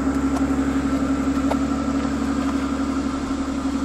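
A Mercedes S65 AMG with a V12 engine rolls slowly with no throttle, its engine holding a steady low idle hum close by and alone.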